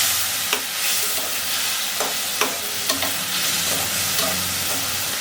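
Koi fish simmer in a spice masala with a little water and turmeric, giving a constant close sizzle broken by several sharp scraping clicks of stirring.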